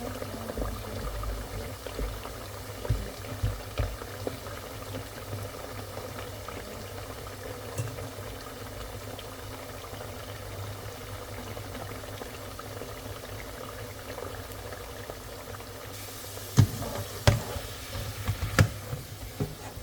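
Chips fry in hot oil in batches, a steady close bubbling sizzle running throughout, with a few sharper crackles and clinks near the end.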